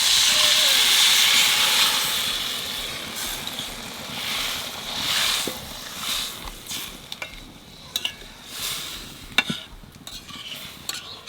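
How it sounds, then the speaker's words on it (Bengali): Spiced water poured over fish in a hot pan sets off a loud, close sizzling hiss that gradually fades, followed by scattered stirring clinks and scrapes. "মশলা দেওয়া জলটা মাছের মধ্যে দিয়ে দেবো।"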